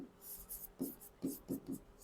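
Notes being written by hand during a horticulture lesson on crop varieties, with short scratchy pen strokes in quick bursts, close and fairly faint, separated by brief pauses.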